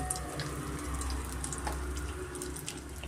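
Mustard seeds, curry leaves and asafoetida sputter in hot oil for a mixed-pulses usli, a dense close crackle of fine pops over a low hiss, no voices.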